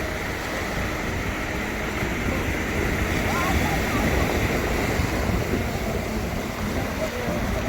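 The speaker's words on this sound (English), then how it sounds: "You can probably hear waves." Ocean surf on a beach in Baler, Philippines, a steady wash of breaking waves mixed with wind buffeting the microphone, continuous and fairly loud without a break.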